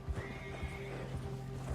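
A horse in Red Dead Redemption 2 whinnies in a drawn-out, agitated neigh while hooves clop softly underneath, close and clear with no speech.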